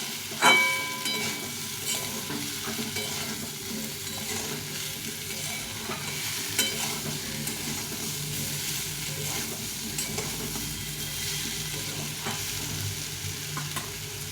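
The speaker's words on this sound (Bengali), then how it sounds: "আর স্বাদ মতো লবণ হলুদ দিয়ে এটাকে ভালো করে ভেজে নেব" Pumpkin frying with salt and turmeric, a steady close sizzle with stirring and scraping strokes, one sharper knock near the start.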